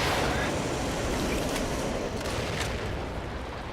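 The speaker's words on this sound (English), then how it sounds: "Give me your rocket launcher, please." Rocket launcher fire in The Evil Within, a loud sustained roar of blasts and rumble that fades slightly toward the end, with a few sharper bursts and no voices.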